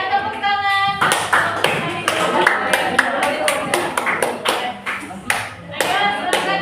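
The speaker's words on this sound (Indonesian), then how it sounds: "Ya, tepuk tangan." A small group claps, a lively burst of applause with uneven hand claps close by, fading slightly toward the end.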